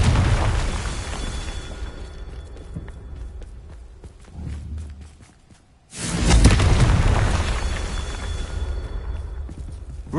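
A Confringo fire spell detonates in Hogwarts Legacy: a heavy rumbling blast that fades to near quiet, then a second loud booming burst erupts and rolls on with crackling debris, footstep-like thuds scattered through.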